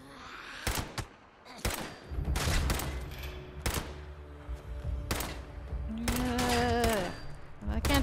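Shotgun blasts in Fallout 76 crack out as sharp, loud bursts, several spaced across the moment, over a steady game rumble with voices talking in between.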